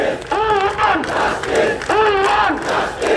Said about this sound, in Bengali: এখন যেমন স্লোগান শুনছেন, এই স্লোগান কিন্তু চলছে এই শাহবাগের মোড়ে এখানে অবস্থান করে